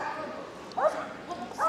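A dog at the Crufts dog show gives a couple of short, yipping barks amid a busy arena, moderately close, with an announcer's voice running underneath.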